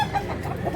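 A gamefowl bullstag clucks softly in a short, murmuring burst, close by, with faint background noise.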